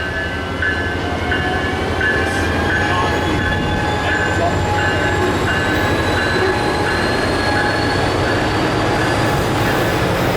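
Freight train 584 departing at Cajon, a loud, steady rumble of rolling railcars with squealing wheels and faint clickety-clack, continuous and close throughout.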